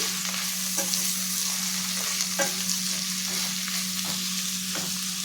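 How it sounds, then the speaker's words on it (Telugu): A quarter kilo of cluster beans with turmeric fries in oil with an even, steady sizzle. Soft stirring scrapes and taps recur every second or so over a low constant hum. "ఇది కొంచెం సేపు నూనెలో మగ్గాలండి మగ్గితేనే టేస్ట్ బాగుంటుంది"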